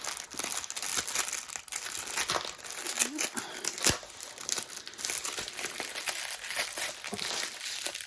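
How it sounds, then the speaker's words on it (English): Silver foil packaging crinkles and crackles steadily as it is torn open and handled, a close, continuous rustle with sharper snaps throughout. "number 4 is in one of these silver packaging"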